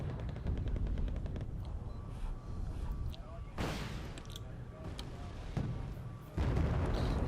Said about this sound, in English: damn, that's some pretty powerful rocket arty